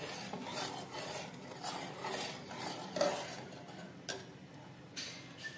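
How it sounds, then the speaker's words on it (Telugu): Tomato rice with salt is stirred in a pot, giving soft, steady scraping and rubbing with faint clinks from the spoon. The strokes are fairly quiet and recur at a loose, even rhythm. "ఇదంతా ఒకసారి బాగా కలుపుకోవాలి. నెక్స్ట్ మనం దీనిలోకి సరిపడా సాల్ట్ని అయితే యాడ్ చేసుకోవాలి. ఒకసారి బాగా కలుపుకోవాలి."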